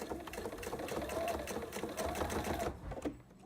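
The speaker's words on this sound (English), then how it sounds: "You're just going to start sewing at the edge there." Sewing machine running steadily while stitching binding onto the raw edge of a quilt, a continuous close whirring hum of needle strokes that stops abruptly near the end.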